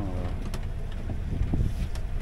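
A sailing boat motors toward Corsica in the evening, its low steady engine drone mixed with heavy wind buffeting the microphone, no speech.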